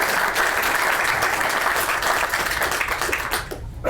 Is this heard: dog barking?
no